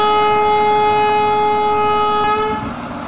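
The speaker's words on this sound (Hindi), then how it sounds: "और हॉर्न वगैरह भी दे देता हूँ" A locomotive horn on an Indian passenger train pulling out of Rajpura Junction toward Ludhiana in Indian Train Simulator gives one loud, sustained, steady tone that holds for about two and a half seconds before cutting off.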